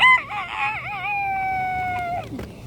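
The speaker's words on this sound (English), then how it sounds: "I don't know if y'all heard that, but the rooster just went." A rooster crows once nearby, a wavering call that ends in a long, drawn-out held note, followed by faint rustling.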